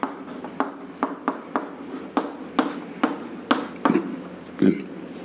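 Chalk taps and scratches across a classroom board as an electric field equation from a physics lecture is written out, making a steady series of short, close, crisp strokes with no talking.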